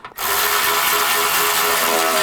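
A power tool runs steadily and loudly, driving in three radiator mounting bolts on a 2011–2014 Chrysler 200. It starts after a brief quiet moment and whirs continuously, close up, with no talk.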